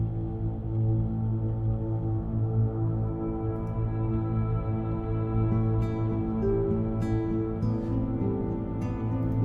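A sustained guitar pad from the Heavyocity Scoring Guitars library holds steady droning tones with soft overtones, playing alone throughout.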